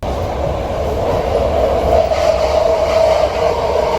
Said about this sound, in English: And this is how Bart sounds.